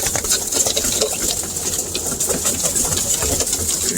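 Pigeons of mixed colours fill a loft with a dense, continuous murmur of cooing and shuffling, close and steady throughout, with faint rustling and background hum and no talking.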